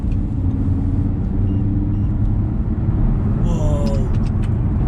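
An Audi R8 V10 Plus with a new exhaust and its valves closed gives a steady, loud, low engine rumble throughout, with a brief higher whine near the end.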